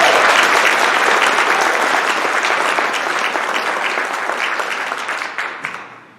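Audience at a Peace Corps Legacy Association national service park launch in Minnesota applauding steadily for a volunteer named Ken, dense sustained clapping that starts strong and gradually thins out toward the end.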